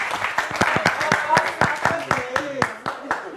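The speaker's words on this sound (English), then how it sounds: "let's give her a round of applause again." Applause from a small audience in a room, heard as distinct individual hand claps in an uneven rhythm, with voices talking and calling out over it.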